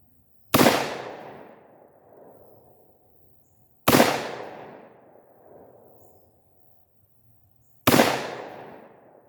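Three loud, sharp rifle shots from a Bear Creek Arsenal .300 Blackout 7.5-inch upper ring out at even intervals of a few seconds, each followed by a decaying echo tail and then silence.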